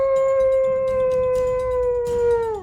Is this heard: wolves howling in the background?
yes